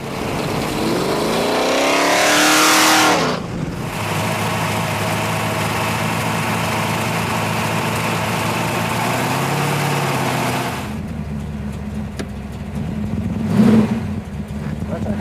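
A Mopar Hemi V8 engine revs up hard in a sweeping rise, drops back, then settles into a loud, steady, throbbing idle nearby. It eases off toward the end, and voices can be heard faintly beneath it.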